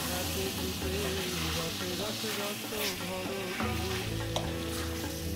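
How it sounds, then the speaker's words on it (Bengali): Mutton sautés in oil in a pot, giving a steady, close sizzle with occasional stirring over a faint tonal background. "মাংস দেওয়ার পর জলটা শুকিয়ে তেল বেরোনো পর্যন্ত কষলেই যথেষ্ট।"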